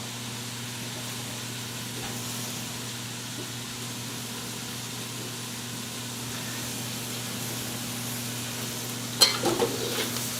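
Yakisoba stir-fries in a very hot stainless steel pan, a steady close sizzle with a low hum beneath it and a few brisk scraping stirs near the end, with no talk.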